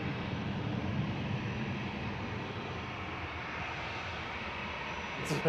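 An EasyJet airliner departs Manchester Airport bound for Venice, its engines giving a steady broad roar at moderate distance that holds level for several seconds.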